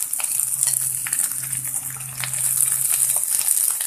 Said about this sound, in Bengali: এবার আমি মিক্স ভেজিটেবলগুলোকে অল্প অল্প করে তেলের মধ্যে দিয়ে দেবো।